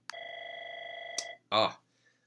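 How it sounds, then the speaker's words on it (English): A telephone rings once with a steady electronic tone lasting about a second, followed by a brief burst of a second ring, heard alone in a quiet room during a calculus lesson. "we had the phone ring"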